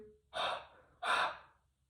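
A voice imitates heavy mouth breathing: two loud, drawn-out breaths, close and slightly rasping, with a pause between.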